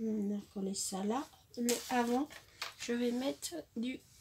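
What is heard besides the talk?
No distinct noise like a dog, phone or traffic.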